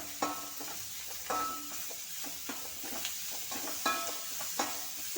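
Shallots and tomato sauté in a pan for chicken curry, with a faint sizzle under repeated clinks and scrapes of stirring at an irregular pace, and no one speaking.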